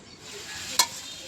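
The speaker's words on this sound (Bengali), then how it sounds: "আর এবার মশলা দিয়ে এই তরকারিটা কষিয়ে নিচ্ছি।" Vegetable curry frying with spices in a pan, giving a steady soft sizzle with light stirring and one brief sharp scrape partway through, fairly quiet throughout.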